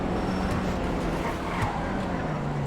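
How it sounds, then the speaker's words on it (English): Vapid Uranus LozSpeed, a lowered sport car on off-road tires with a big spoiler, driving fast through an alleyway in GTA Online; a steady, loud engine roar runs throughout with a brief tire squeal partway. "you can tell that the car is flying through that little alleyway there"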